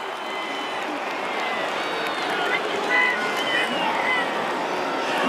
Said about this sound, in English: And the crowd replaces the silence with boos